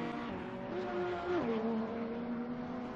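Sim racing video game car spinning out, engine tone sweeping and dipping mid-clip over a sustained tire squeal, loud and continuous throughout.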